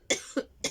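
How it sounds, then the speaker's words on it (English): Three sharp coughs in a row, close and fairly loud, evenly spaced with brief pauses between them. "I'm going to cough."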